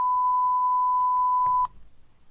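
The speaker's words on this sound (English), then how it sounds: "The beep's still going on" A steady censor bleep at one pure pitch runs loud for about a second and a half, then cuts off abruptly, leaving faint low background rumble.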